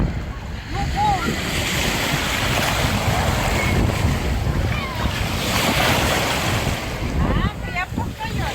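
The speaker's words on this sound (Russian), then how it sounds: "Ну, волны." Sea waves surge and wash steadily near the shore, a loud continuous roar with heavy wind buffeting the microphone.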